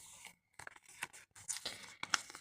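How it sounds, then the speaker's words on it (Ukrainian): A purple plastic packet is torn open by hand in a crafting session, a series of short crinkly rips and rustles in irregular bursts, close and fairly quiet. "Сьогодні ми відкриваємо фіолетовий пакетик."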